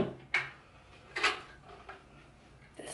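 A drawer overflowing with makeup is pulled open, giving a few soft sliding thumps and rattles of packed cosmetics, close by and fairly quiet with gaps between movements.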